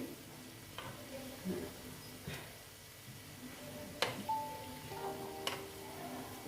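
Spinach pakora frying in mustard oil gives a faint, steady sizzle, broken by a few light clinks and stirring sounds from the pan.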